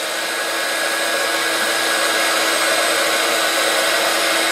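A hair dryer runs steadily and loudly throughout, blowing hot air to warm a sticker so it can be peeled off; the even, rushing whoosh stays constant without breaks.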